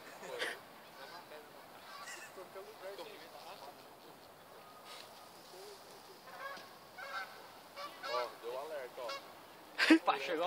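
A duck honks and quacks in a string of short, scattered calls while people chase it outdoors, with voices talking throughout and the loudest honks coming near the end.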